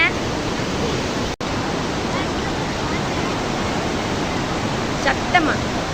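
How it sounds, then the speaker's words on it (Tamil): A large volume of water rushes from the Kalawewa dam in Sri Lanka, a loud, steady broadband roar throughout, with a brief cut early on and faint voices near the end. "எவ்வளோ தண்ணி போகுது"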